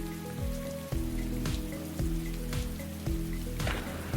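Rain falls steadily in a city climate game, a dense hiss of drops on surfaces over a low, pulsing background tone that repeats about once a second.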